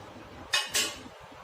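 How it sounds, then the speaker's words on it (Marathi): A metal lid is lifted off a cooking pot of soaked sago and barnyard millet, making two quick, bright clinks close by in a quiet kitchen. "आता आपण झाकण उघडून बघूया।"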